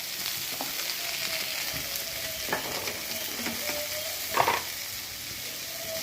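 Okra sautéing in a pan for a Tamil-style stir-fry with turmeric, giving a steady low sizzle with occasional scrapes and light clinks of stirring, one louder scrape near the end, and no talking.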